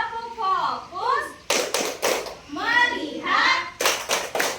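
Sixth-grade schoolchildren in a classroom chant together, then break into bursts of quick, sharp unison hand claps in a rhythmic pattern, with the chanting returning between clapping bouts.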